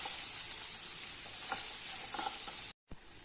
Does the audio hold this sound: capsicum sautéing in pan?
yes